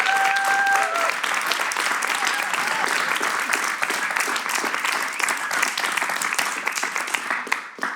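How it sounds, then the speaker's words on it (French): A studio audience applauds a live band, with dense sustained clapping heard up close and loud throughout, a brief voice audible at the start. "On les applaudit très fort."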